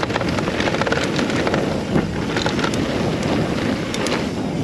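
Wind buffets the microphone during a mountain bike ride on a Rotorua jump trail, a constant rushing roar with occasional gusty bumps and no voices.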